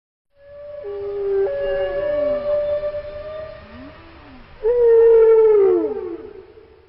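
Long, mournful whale cries, drawn-out tonal wails that rise and fall, as a whale's final calls while a kaiju drags it undersea; two loud sustained cries with a pause between, no talk.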